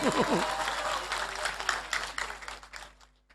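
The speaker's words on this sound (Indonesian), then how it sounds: "Tepuk tangan buat semuanya." A religious sermon crowd bursts into applause that starts full and loud, then thins into scattered claps and dies away within a few seconds, with a voice briefly heard at the start.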